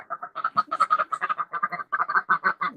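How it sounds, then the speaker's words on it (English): Many ducks quack in a dense, steady run of overlapping calls, close and fairly loud, with no talk over them. "Hey, look, a lot of ducks."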